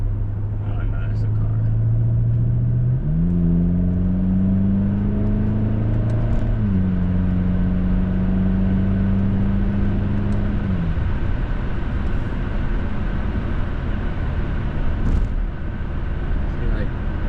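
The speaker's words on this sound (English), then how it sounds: "Oh no, it's a car." Engine of a 2010 BMW X6M revving outdoors, a steady low drone that climbs in pitch, holds raised for several seconds, then drops back, under voices and background noise.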